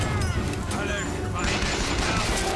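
Gunfire in the BioShock Infinite shooter, a dense rattle of shots and impacts during a firefight, loud and continuous with a heavier burst partway through and game noise layered around it.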